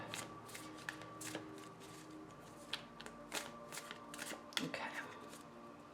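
Cards from an Anna K tarot deck are shuffled close up, with crisp repeated riffles and flicks in an uneven rhythm at a soft level. A voice briefly speaks one word.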